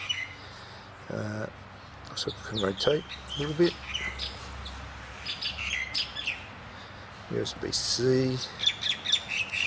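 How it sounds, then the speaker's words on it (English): A bird nearby chirps and squawks in short, sharp bursts, scattered through the recording and clear above the background, while someone talks throughout. "Sorry about the bird."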